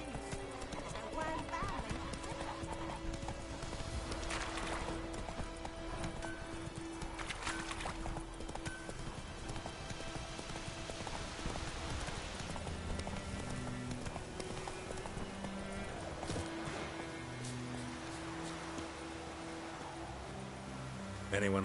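Roach the horse gallops through a PS4 game world in a steady clip-clop of hooves, heard continuously under music and speaking voices.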